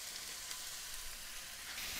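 Spiralized spaghetti squash cooking in a pan on a commercial stove at moderate heat, giving a steady, faint hiss of sizzling with no breaks.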